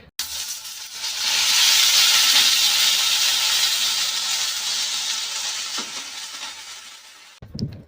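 Bitter gourd and potato hiss and sizzle loudly in hot oil in a wok, a steady bright frying sound that swells after a moment and fades slightly before a brief clatter at the end.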